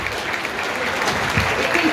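A theatre audience applauds a Dutch stage performance, steady dense clapping that fills the whole stretch at an even level, with a faint voice under it.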